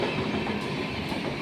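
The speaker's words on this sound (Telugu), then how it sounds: "2 వెళ్తున్నాయి ఇప్పుడు ఒకేసారి, 2 ట్రైన్లు వెళ్తున్నాయి." Two trains pass on a railway track at the same time, with a loud, continuous rumble and clickety-clack of wheels close by.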